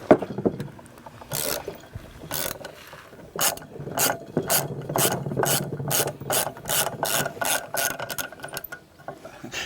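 Ratchet wrench clicking repeatedly while bolts are backed off a snowmobile clutch helix, a close, loud run of sharp ratcheting strokes in a steady rhythm with no talk.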